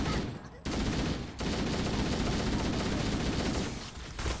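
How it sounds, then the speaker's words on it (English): Gunfire in the video game Halo: Combat Evolved, a dense, sustained burst of rapid shots forming a loud continuous roar, broken by brief pauses at the start and near the end. "Every single time I fire a few shots, I reload."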